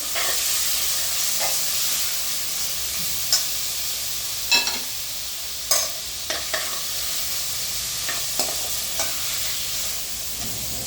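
Tomato sautéing with ginger masala, mint and coriander in a pan for vegetable biryani: a steady frying sizzle with occasional sharp scrapes and knocks of a stirring spoon.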